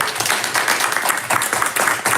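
A small group claps at a school board meeting, a brief burst of quick, uneven hand claps running steadily for about two seconds before a vote, fairly close and moderately loud with no talk over it.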